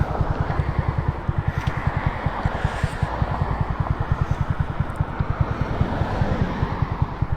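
A Honda Grom motorcycle engine runs steadily with a fast, even low-pitched pulse, close and loud, mixed with wind rush and no voices.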